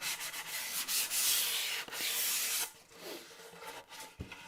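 Sandpaper rubs by hand over a finished kitchen cabinet surface in close, rhythmic strokes, raspy bursts with short pauses and a light knock near the end.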